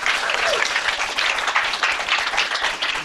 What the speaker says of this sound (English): a round of applause to all of our students who presented today